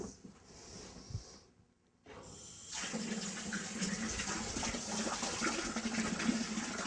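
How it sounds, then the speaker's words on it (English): Water from a tap runs into a 2-liter beaker, first as a light hiss, then after a brief pause as a louder, steady gushing pour that keeps going to the end. "we'll use a stopwatch to measure how long it takes to fill the 2-liter beaker"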